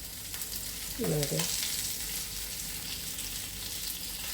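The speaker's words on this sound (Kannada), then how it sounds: "ಈಗ ನಾನು ಅದನ್ನು ಫ್ರೈ ಮಾಡ್ತಾ ಇದ್ದೇನೆ" Marinated fish frying in a pan, Mangalore style, with a steady close sizzle throughout; a voice speaks briefly over it.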